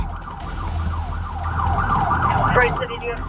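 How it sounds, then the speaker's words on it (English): Police sirens wail during a high-speed pursuit along US 23, their rising and falling tones cycling over steady road and engine rumble, growing louder midway. "Officers immediately activated their sirens, kicking off a tense pursuit"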